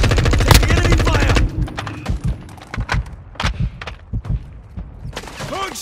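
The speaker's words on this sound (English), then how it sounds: "Taking enemy fire!" Enemy gunfire in Call of Duty Modern Warfare 2: a dense burst of rapid automatic fire at the start, then scattered sharp shots and thuds spread through a busy battlefield mix, loud and close.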